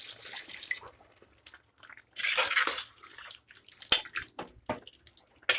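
A glass of water splashes into a pressure cooker holding boti (goat tripe) already seasoned with turmeric and salt. Two short pouring bursts are followed by scattered light clinks and drips in a quiet kitchen.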